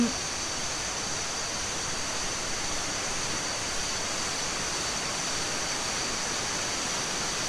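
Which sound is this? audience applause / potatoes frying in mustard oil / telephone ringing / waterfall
waterfall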